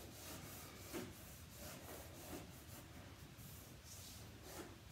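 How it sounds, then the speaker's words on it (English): A wet cloth rubs over painted wood furniture to distress the finish, giving soft, steady scrubbing strokes in an irregular back-and-forth rhythm, close and fairly quiet with no talk. "with just a wet cloth. Sometimes, depending on the distress look that I want, sometimes I will use a sanding pad, but for the most part, this is how I distress my furniture."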